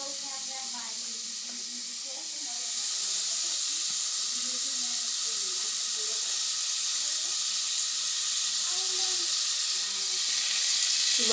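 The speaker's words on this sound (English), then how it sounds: "So this butter is still melting." Butter melting in a pan for macaroni and cheese, a soft steady hiss and sizzle that grows slightly louder after a couple of seconds, with faint talk underneath.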